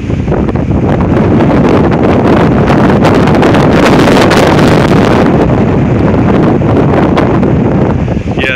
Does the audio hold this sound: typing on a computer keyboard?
no